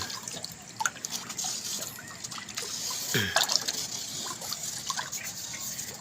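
Hydroponic nutrient solution for Kratky lettuce being stirred, soft liquid swishes and drips under a steady background hiss, faint and close, without talk.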